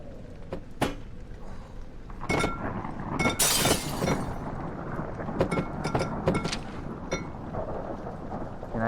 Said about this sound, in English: But I can broke the glass.